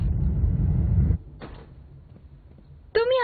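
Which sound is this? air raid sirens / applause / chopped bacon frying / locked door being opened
locked door being opened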